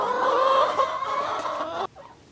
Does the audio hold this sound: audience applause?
no